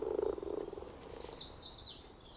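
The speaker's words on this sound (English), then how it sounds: "One morning, Alex and Rosie heard a croaking sound. There was a frog in the pond." A frog croaks in a garden pond, a few low rasping calls up front that fade under birdsong chirping high above, the whole scene quiet and outdoors.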